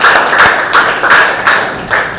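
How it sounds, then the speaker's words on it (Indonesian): A classroom group claps for a presentation by group 1 at a vocational school, a short burst of brisk, close applause with uneven hand slaps. "Oke, kita tepuk tangan dulu untuk."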